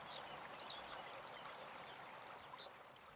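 Steady broadband rush of flowing water, a gentle stream running continuously with faint high chirps or splashes scattered over it.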